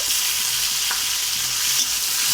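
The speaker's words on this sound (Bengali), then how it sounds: "হালকা ভাজা ভাজা হয়ে আসলে এখানে 2টো কাঁচা লঙ্কা আর টমেটো কুচি দিয়ে দিচ্ছি" Oil sizzles and crackles steadily as chopped green chillies and tomato fry in a pan, with faint stirring scrapes.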